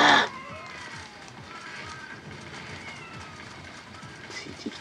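Cats meowing in the video game Tokyo Jungle: one loud, close meow at the start, then fainter overlapping cat calls over a steady game background.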